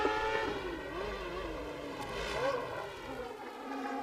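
An IndyCar engine at Road America in 1999 whines and revs through shifting pitches, blipping on the downshift, heard under a commentator's voice.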